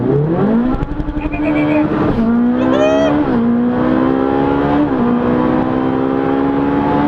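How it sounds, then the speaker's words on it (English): Ferrari 458 Speciale in race mode accelerating hard with a loud, rising engine howl, then braking as the gearbox snaps through quick downshifts marked by sharp pitch drops, heard close from inside the car. "I'm just going to brake hard and hold in this down paddle here, and it's just going to downshift for me"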